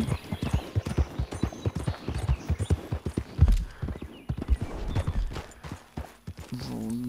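Horse hooves clip-clop in a quick, steady rhythm close by in a video game (Red Dead Online), with a whinny near the end.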